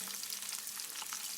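Onions frying in melted ghee sizzle steadily and quietly, a soft continuous crackle with faint scattered pops and no voices.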